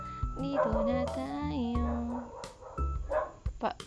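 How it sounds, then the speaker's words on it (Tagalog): Several dogs bark and yip near a tree house, sharp repeated barks with some whimpering tones, loud and close, with background music faintly underneath. "Ang ingay naman ng mga aso."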